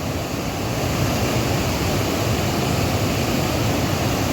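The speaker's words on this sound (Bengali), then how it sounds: "এই যে দেখুন কি ভয়ঙ্কর স্রোত। এই ওয়াটারফলগুলো বর্ষা ছাড়া সত্যিকারেরই ভালো লাগবে না, তখন জলের স্রোত অনেকটাই কমে যাবে।" A monsoon waterfall in Dhanbad with a strong rushing current roars as a steady, dense wash of water noise that stays loud and unbroken throughout.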